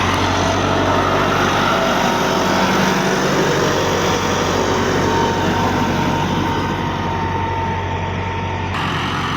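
A 2010 Massey Ferguson 375 tractor hitched to a 2015 laser land leveler runs with a loud, steady engine drone that holds unbroken from start to finish, with no voices over it.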